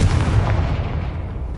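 A Confringo blasting spell going off in the Hogwarts Legacy video game makes a loud, booming explosion with a thick low-end rumble that decays over about a second and a half.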